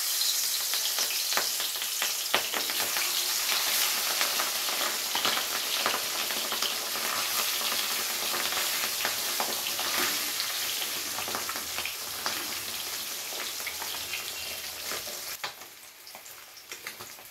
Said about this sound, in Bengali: এবারে তেলের মধ্যে এক এক করে মাছগুলোকে ভেজে নেব।